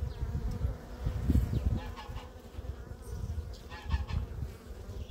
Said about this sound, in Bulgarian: Ето тук вече пчеличките приготвят дори по-страничните пити за осеменяване от майката.